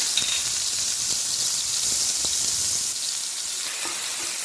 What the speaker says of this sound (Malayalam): ഇനി ആദ്യം നമുക്ക് ഇഞ്ചി വെളുത്തുള്ളി ചെറുതായിട്ട് കുരുകുര അരിഞ്ഞത് ഇതിലോട്ടിടാം